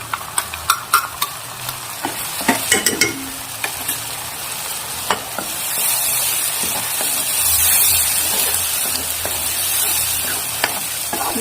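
Onion and tomato paste fries in a pan for Gujarati peanut bhajiya: a few sharp stirring clinks at the start, then a steady close sizzle that swells and keeps going.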